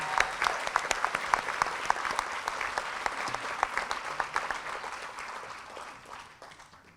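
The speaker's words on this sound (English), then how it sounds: "if we could all show our thanks by giving one last round of applause" Sustained applause from a large audience at a high school senior awards ceremony, dense rapid clapping that holds steady and then gradually thins and fades toward the end.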